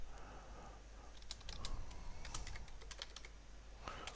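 Code is typed on a computer keyboard in a quiet room, with quick bursts of close, crisp key clicks and short pauses between runs.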